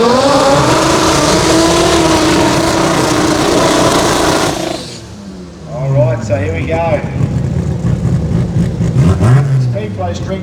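Small tyre drag race cars at a drag racing event, a loud sustained engine roar that cuts off midway, then renewed revving and accelerating bursts with a person talking over it.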